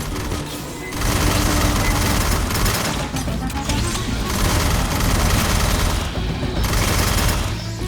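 Sustained automatic gunfire in the sci-fi shooter game Aliens: Fireteam Elite, loud dense bursts of rapid shots and crashing impacts, with a brief lull near the start and another near the end.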